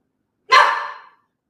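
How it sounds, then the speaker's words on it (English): A pet dog gives a single sharp bark nearby, loud and brief, set against otherwise quiet indoor silence. "Oh, that's my dog."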